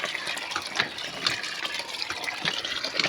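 Water poured by hand onto a hot corrugated metal roof sheet, a steady splashing gush with small spattering bursts that runs the whole time, close and fairly loud.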